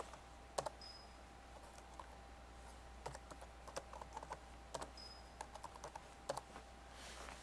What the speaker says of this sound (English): you'll type in the vocabulary words you want it to recognize